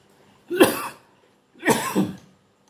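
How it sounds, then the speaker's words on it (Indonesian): Two separate harsh coughs about a second apart, close and fairly loud, with quiet in between and no talking. "sorry batuk ya"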